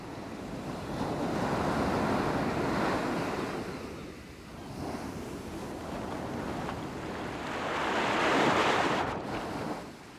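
Broad, rolling surf of Mediterranean Sea waves swells and fades in two long surges, loud and close, with wind buffeting the microphone and no voices.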